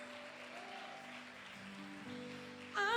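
A church congregation claps, a soft, spread patter of many hands under a sustained organ or keyboard chord, with the sound swelling louder near the end.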